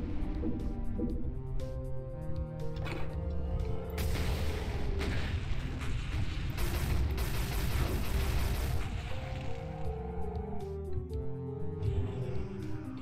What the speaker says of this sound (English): Phoenix Rod. Now that's like a big rocket.